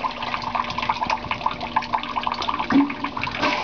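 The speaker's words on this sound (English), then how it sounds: "You can hear it dripping." Maple sap trickles and drips steadily through collection lines, with scattered drops falling close by and no voices.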